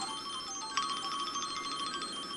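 A telephone rings in a restaurant kitchen in a TVB drama. A steady, repeating electronic trill starts partway through and continues at moderate loudness, with no voices.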